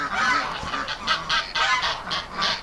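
A goose on a nest of duck eggs honks repeatedly, with loud nasal calls coming in quick uneven bursts close by, alone without talk.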